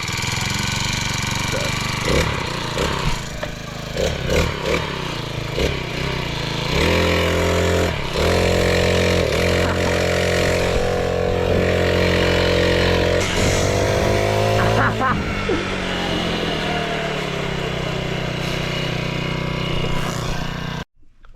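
A gas-powered mini bike engine runs continuously and close up, its loud buzzy drone rising and falling with throttle changes and holding a high steady rev through the middle before cutting off at the end.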